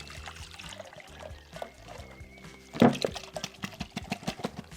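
Pulped paper and water mixture poured into a container for a recycled paper activity, a short wet splash and glug near the middle followed by a series of soft drips and trickles, over faint background noise.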